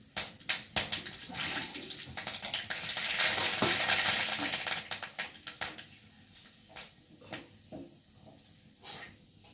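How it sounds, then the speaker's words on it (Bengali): Dried red chillies and black mustard seeds sizzle and spatter in hot oil in a kadai, with a loud frying hiss that fades into scattered sharp pops and crackles, close up and without talk. "আর এখন আমি ফোড়নে দেবো শুকনো লঙ্কা, আর দেবো কালো সর্ষে।"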